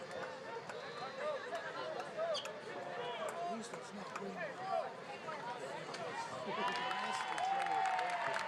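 High school football crowd in the stands cheering after a kickoff, a babble of voices and scattered shouts building into a louder swell toward the end, with speech in the mix.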